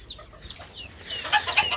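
Hens and chicks sharing one cage make clucks and high peeping calls, close and clear, with a louder burst of squawking near the end and no talking.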